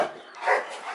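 A large Rottweiler gives a single short, rough bark-growl, fairly close, lasting about a second with no other sounds around it.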